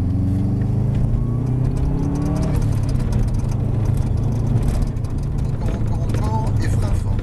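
A Subaru Impreza rally car accelerates at full throttle on a track, its engine a steady loud droning roar from inside the cabin, with people talking over it.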